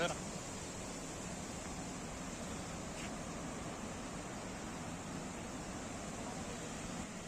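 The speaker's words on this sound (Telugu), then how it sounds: "వాటర్ సౌండ్ అయితే మాత్రం చాలా అంటే చాలా బీభత్సంగా వస్తుందన్నమాట ఇక్కడికి" Unbroken roar of water rushing down the Pochera waterfall stream, broad and steady at close range, with no pauses and no clear voices over it.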